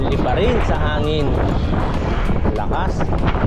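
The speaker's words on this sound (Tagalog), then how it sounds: "Ang lakas ng hangin" Strong wind gusting across a large bridge on a hard mountain route between Bangued, Abra and Nueva Era, Ilocos Sur, a loud constant roar buffeting the microphone while people talk over it.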